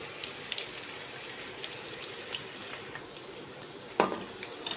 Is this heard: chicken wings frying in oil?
yes